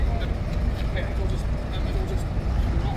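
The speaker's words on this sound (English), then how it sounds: "The old Leyland coach here, Leyland Tiger." A vintage Leyland Tiger coach at an outdoor vintage bus rally, its engine giving a steady low rumble throughout amid crowd chatter and voices nearby.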